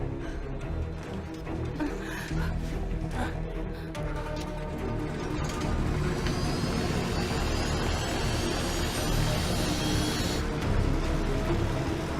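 Airplane engine roaring during a tense movie escape, a steady, loud, dense drone that fills the whole stretch with a slight rise in intensity partway through, no voices heard.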